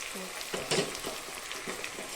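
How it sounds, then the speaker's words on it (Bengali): Poppy seed paste sizzles in hot oil in a pan, a soft crackling fry with a few stirring scrapes and bursts, fairly quiet and close. "তো দেখো বন্ধুরা, তেলটা ছেড়ে এসেছে। তো আমি এর মধ্যে দিয়ে দেবো এবারে পোস্ত বাটাটা পুরো দিয়ে দেবো।"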